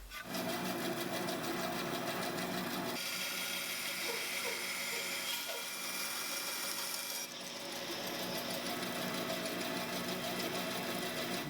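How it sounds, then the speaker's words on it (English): A bandsaw cuts wood for a cigar box guitar neck, giving a loud continuous mechanical whine and drone that holds steady for the whole stretch and shifts slightly in tone partway through the cut. "So let me take this to the bandsaw and cut that."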